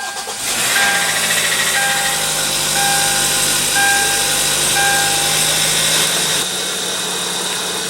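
A 2015 Hyundai Tucson's 2.4 L four-cylinder engine turns over after a push-button start and settles into a steady, close idle with a low hum, a few faint chimes over it, then drops slightly near the end.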